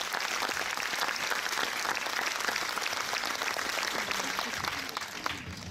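An audience at a film premiere presentation in Rochefort claps steadily and densely for the whole stretch, a fairly distant, even roar of many hands with no voices standing out.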